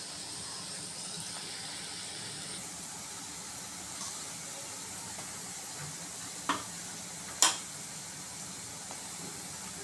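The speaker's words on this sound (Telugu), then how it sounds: "ఆయిల్ బాగా వేడెక్కినాక ఉల్లిపాయలు, పచ్చిమిర్చి, కరివేపాకు వేసి అవి బాగా వేగిన తర్వాత" Onions, green chillies, curry leaves and ginger garlic paste frying in hot oil for a prawn curry, a steady low sizzle with light stirring and two brief sharp clinks near the end.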